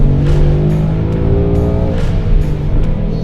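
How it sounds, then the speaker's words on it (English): A Ford Mustang accelerates hard up a curving freeway on-ramp, its engine droning steadily and loudly from inside the car with rising revs and brief shifts throughout. "it is time to kick off our test drive with a very fun on-ramp onto the freeway"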